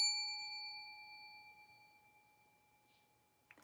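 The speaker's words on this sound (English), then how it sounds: "I love waiting for the bell to finish ringing." A small bell rings once, its clear metallic tone sustaining and slowly fading over several seconds before a faint soft knock at the end.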